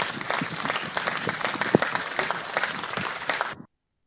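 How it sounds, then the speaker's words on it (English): A group claps together in a mosque or shrine during a Nigerian public gathering, sharp hand claps forming a dense, steady patter for several seconds before stopping abruptly. "Use your clapping."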